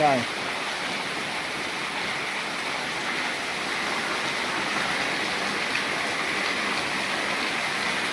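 Steady, dense roar of heavy nighttime monsoon rain pouring down without a break, a constant broadband hiss that stays even throughout.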